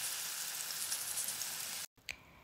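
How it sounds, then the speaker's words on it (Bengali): Cauliflower (gobi) pieces frying in hot oil for gobi manchurian give a steady, fairly loud crackling sizzle that cuts out abruptly near the end, followed by a faint clink. "এটাকে এখন আমরা ভেজে নেব।"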